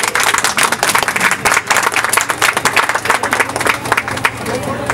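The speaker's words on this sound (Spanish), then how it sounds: "¡Bravo! Un aplauso, por favor." Audience applause at a city council meeting in Doral, Florida, in support of the vice mayor: dense, loud clapping from a crowd lasting throughout, with voices mixed in.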